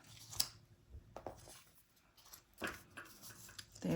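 Scissors snip through cardstock in a few faint, close, irregular cuts, with quiet rustling of paper between them and no speech.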